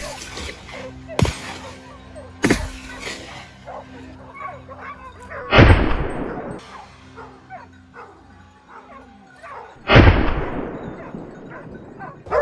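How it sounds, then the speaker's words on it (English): Rifle shots fired at a wild boar, two sharp loud cracks several seconds apart, heard among dog barking and whimpering with some voices in the background. "Without hesitation, rapid shots rang out, giving it no chance to react"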